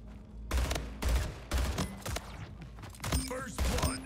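Rapid bursts of battle rifle fire in the arena shooter Splitgate, loud, close and repeated in quick volleys about every half second, with game effects and a faint voice underneath.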